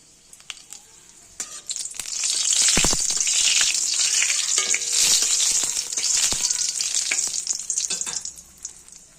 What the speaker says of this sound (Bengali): তেল গরম হয়ে গেছে, দিয়ে দেবো শুকনো লঙ্কা